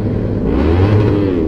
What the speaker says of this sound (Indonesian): Dari belakang kelihatannya si Maul itu yang geber